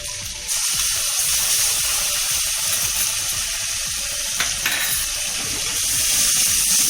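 Garlic paste dropped into melted butter in a pan in an Indian kitchen bursts into a loud, steady sizzle almost at once and keeps hissing evenly throughout.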